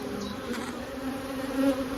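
Honeybees buzz steadily around an open hive during a weekly swarm inspection, a dense close insect drone with a slight swell near the end and no voices.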